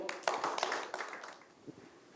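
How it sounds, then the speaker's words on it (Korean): Brief applause welcomes a speaker at a carbon neutrality policy forum: a short burst of clapping that quickly thins and fades out within about two seconds. "힘찬 박수로 모시겠습니다"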